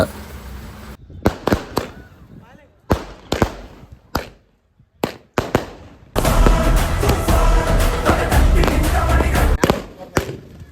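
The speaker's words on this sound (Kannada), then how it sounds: "ಪಟಾಕಿ ಹಚ್ಚ ಕುಂತಾರ ನೋಡ್ರಿ ತಾತನ ಗುಡಿ ಮುಂದ." Firecrackers burst in front of a temple during a village fair, a string of sharp, loud bangs with gaps between, then a dense rapid crackling volley near the end.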